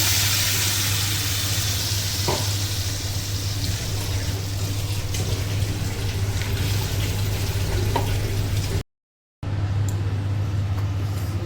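Ground spice paste made in a mixer, with extra water, hits a hot pan for egg curry, giving a loud, steady sizzle close by with a brief silent gap near the end.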